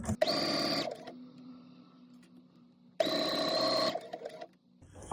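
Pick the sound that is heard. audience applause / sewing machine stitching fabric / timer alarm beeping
sewing machine stitching fabric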